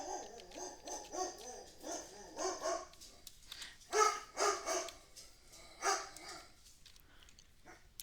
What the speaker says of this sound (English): Sorry about the puppies.